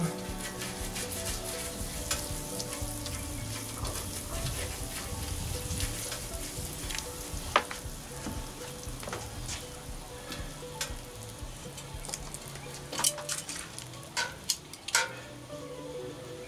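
Butter and bratwursts sizzle on a Blackstone flat-top griddle, a steady close frying hiss running throughout with occasional sharper pops and crackles near the end.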